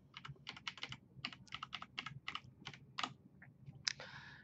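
Username entered on a computer keyboard, a quick run of crisp close key clicks in uneven bursts, ending with a slightly heavier keystroke, with no talking.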